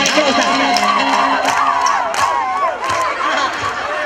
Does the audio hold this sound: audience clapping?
yes